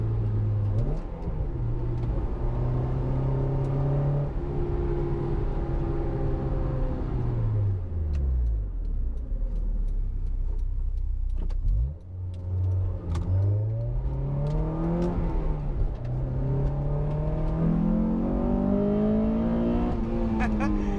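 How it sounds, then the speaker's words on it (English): An AP1 Honda S2000 engine with an HKS high power exhaust revs hard through VTEC and climbs through the rev range several times, its pitch rising and falling, loud and close, with talk faintly underneath. "VTEC does sound good with it though."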